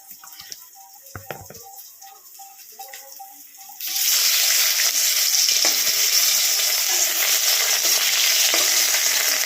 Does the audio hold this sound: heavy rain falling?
no